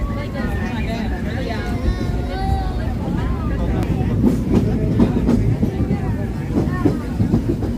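Disneyland Railroad steam train running, a loud steady rumble with rhythmic rail clatter and squeals, close by, while a recorded voice speaks over it.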